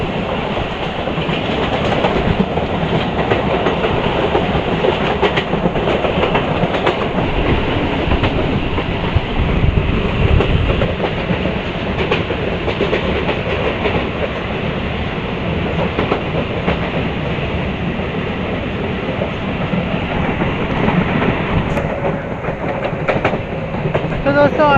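A Ramtek–Itwari MEMU electric passenger train rolls along rails past fields, a loud, steady rumble with rhythmic clickety-clack of wheels over joints heard from onboard, sustained throughout with no talk.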